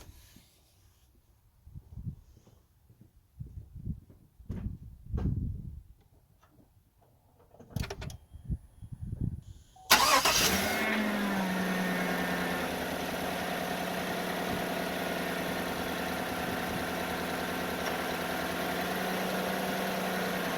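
After several quiet clunks and shuffling noises, a 2014 Silverado pickup truck engine with a faulty alternator cranks and catches, then settles into a steady, loud rumbling idle that continues to the end.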